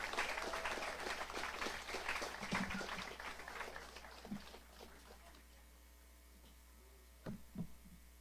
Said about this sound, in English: Give that sister a hand of applause for the bread